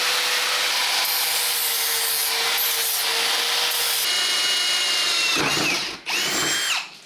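A power tool with a wire wheel grinds steadily and loudly against saw-cut metal edges of a roof rack for an overland trailer, then catches and screeches in two sharper bursts near the end.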